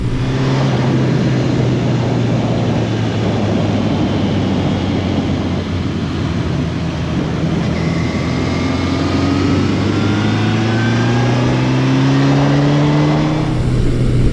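A large 1980s-era sport motorcycle, either a Yamaha FJ1200 or Suzuki GS1100E, accelerates hard with a loud, steady engine roar whose pitch climbs through the gears, running continuously close by with no talking.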